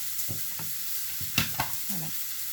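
Burger patties sizzle in a frying pan, a steady close hiss broken by several scraping, clattering knocks of a utensil against the pan.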